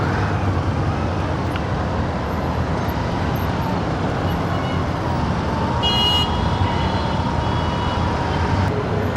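City road traffic in a jam, a dense, steady rumble of idling cars, trucks and buses up close, with a brief horn toot partway through.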